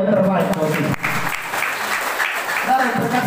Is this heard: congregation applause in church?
yes